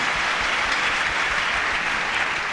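A church congregation applauds together at a healing service, a dense, continuous wash of clapping that stays steady throughout with no voices standing out.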